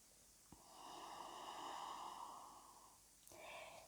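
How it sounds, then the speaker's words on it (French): Deep breathing during a morning yoga routine, a slow audible breath, soft and close, heard alone between a faint click and a second breath at the end. "Prends une profonde respiration ici."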